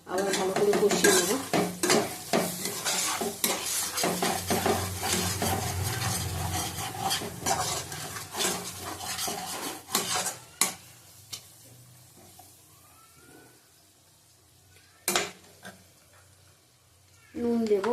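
A spiced masala with Kashmiri chilli powder sizzles and fries in a pan for a chicken kosha, with a spoon steadily scraping and stirring. The noise is busy and continuous at first, then goes quieter with occasional clinks.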